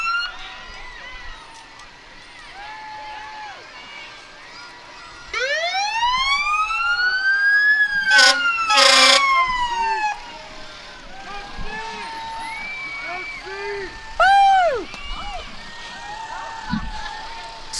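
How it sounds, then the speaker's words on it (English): At a small-town Peach Days parade in Hurricane, Utah, a fire truck's siren wails loud and near, rising and falling with sharp electronic whoops and blasts, while voices commentate and the crowd murmurs. "Sitting atop that beautiful fire truck."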